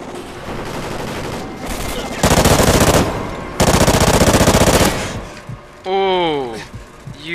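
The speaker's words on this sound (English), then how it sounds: "I did not mean to shoot." Gunfire in a clan versus clan video game match, loud rapid machine-gun bursts in two long volleys, close and harsh, with people talking over and between them.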